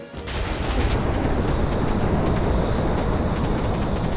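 Rapid bursts of gunfire in a Minecraft zombie game, dense and continuous with a booming low end, loud and sustained without speech.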